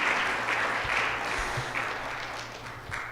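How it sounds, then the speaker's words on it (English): Sustained applause from an audience at a student association address, a steady wash of many hands clapping with slight swells, filling the whole stretch without talk. "Give them a round of applause, please."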